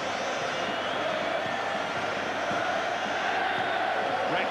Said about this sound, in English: And Graham West, acknowledging the support and the fervour that that crowd have given.